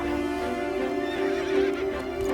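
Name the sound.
horse neighing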